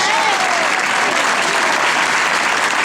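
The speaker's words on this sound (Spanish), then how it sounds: "un aplauso para Abel Barros" Dense, continuous clapping from a crowd lining the finish of a 10K race on Illa de Arousa, loud and steady throughout, greeting a finishing runner with a faint voice underneath.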